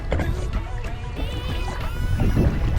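A kayak paddle dips and pulls through water in a steady rhythm of close splashes and drips, with wind rushing over the microphone throughout.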